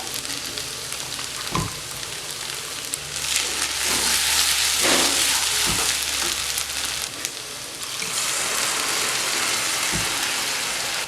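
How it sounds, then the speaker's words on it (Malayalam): Ground spice paste goes into a pan of frying bitter gourd, raising a loud, steady sizzle and hiss broken by a few sharp spoon knocks against the pan, with no talking. "ഇനി നമുക്ക് ഇതിനകത്തേക്ക് നമ്മൾ അരച്ച് വെച്ചിരിക്കുന്ന അരപ്പ് ചേർത്ത് കൊടുക്കാം"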